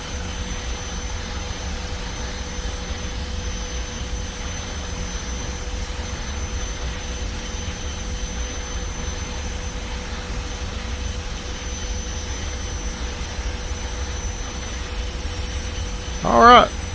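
The jet engine of a Just Flight Hawk T1 trainer in Microsoft Flight Simulator hums as a steady, even drone with a faint high whine, and a voice briefly speaks near the end.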